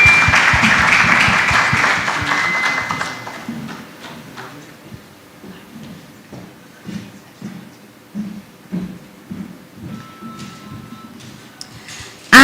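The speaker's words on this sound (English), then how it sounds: "Round of applause" An audience at a customer experience conference applauds, a loud burst of clapping that fades after a few seconds into scattered, sparse claps and light ticks.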